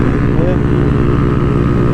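Kawasaki Z125 Pro motorcycle engine droning steadily while riding, a constant close buzzing hum with no breaks, held at high revs on throttle.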